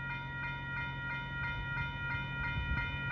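A freight train passes a level crossing on Ninth Street in Rochelle, Illinois, a steady close rumble under bright, evenly pulsing metallic tones, continuous and unbroken.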